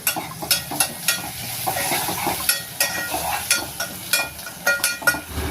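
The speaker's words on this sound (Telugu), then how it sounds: "ఒక్కసారి ఉల్లిగడ్డలు కలుపుకుందామండి" Onions frying in a pan on a medium flame, a steady sizzle and hiss with repeated scraping clicks as they are stirred, close and fairly loud.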